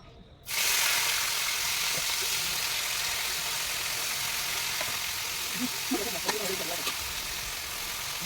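Cut squash pieces hit a hot kadai and set off a sudden loud sizzle that holds steady and hissing, with faint clinks and stirring beneath.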